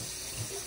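A kitchen tap runs steadily while a cup is washed, a brief, even hiss of flowing water with no talking.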